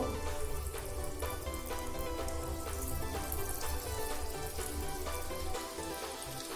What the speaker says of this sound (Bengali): তেলটা কিন্তু গরম হয়ে গেছে এবার আমি একে একে এইগুলোকে ছেড়ে দেব আমি কিন্তু মিডিয়াম ফ্লেমে এইগুলোকে ভাজবো